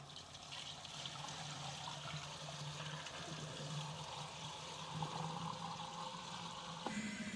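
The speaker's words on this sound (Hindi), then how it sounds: "तो सबसे पहले तो मैं इसमें पानी डालती हूँ दोस्तों," Water pours steadily from a container onto lime being slaked for whitewash, a continuous soft splashing and gurgling trickle that runs for several seconds, fairly faint and without talk.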